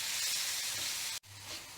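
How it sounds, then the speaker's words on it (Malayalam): Pieces of ripe plantain sauté in ghee in a hot pan, a steady bright sizzle up close that cuts out briefly near the end and then resumes more quietly. "ഈ ഏത്തപ്പഴം ഇതിലേക്ക് ഇട്ടിട്ട് ഒന്ന് നന്നായിട്ട് വഴറ്റി കൊടുക്കാം"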